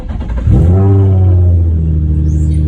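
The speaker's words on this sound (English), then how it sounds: "I'm gonna start the car" A car fitted with NGK Ruthenium spark plugs cranks and catches, its engine surging up loud and close before settling into a steady, rich-running idle.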